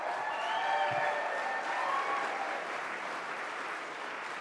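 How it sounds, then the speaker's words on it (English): A political rally crowd in Buffalo applauds for Lt. Gov. Kathy Hochul, sustained dense clapping with scattered whistles and cheers rising over it, fairly distant and steady throughout. "let's give a big round of applause to Kathy Hochul"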